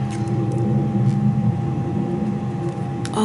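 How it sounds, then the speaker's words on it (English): A huge jet airplane passes overhead, heard as a broad, steady low rumble that fills the background throughout, moderately loud and distant. "we have a huge jet going over"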